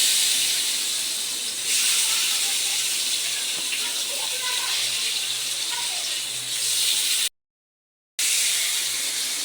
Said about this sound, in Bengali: এখন গোশগুলো দিয়ে দিবে একটা একটা করে।